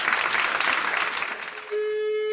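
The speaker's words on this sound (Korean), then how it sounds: "여러분 감사 박수 한번 주십시오." A brief burst of audience clapping at a book concert for a novel lasts under two seconds before giving way to a sustained musical tone.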